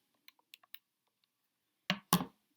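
Calculator keys are pressed in a quick series of light, faint clicks, followed by two louder, fuller clacks close by near the end.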